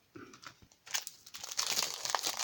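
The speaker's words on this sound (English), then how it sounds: "Sorry about the rustling." Packs of pre-pricked stitching cards crinkle and rustle close up, a soft start building into louder, continuous crumpling of plastic packaging.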